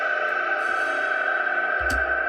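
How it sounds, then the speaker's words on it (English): A sustained, heavily reverberant synth tone with a long decay setting hangs with a long washy tail, then a brief low thump near the end. "just reverb the hell out of it. So here, look. Put the decay up."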